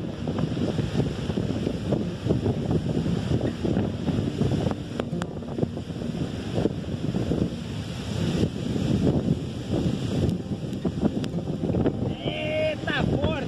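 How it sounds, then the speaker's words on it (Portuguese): Strong wind buffets the microphone over the rushing roar of Cachoeira do Prata waterfall in Juscimeira, Mato Grosso, Brazil, with gusty, uneven rumbling and brief clicks throughout. "Você deve estar escutando agora cachoeira, o vento aqui é bem forte"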